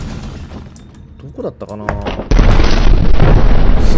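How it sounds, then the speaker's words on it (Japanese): A loud explosion in the video game Backrooms Break cuts in abruptly partway through, with a sustained roaring blast following. Someone talks quietly just before it. "バックルームっつうのとか思えないような爆発"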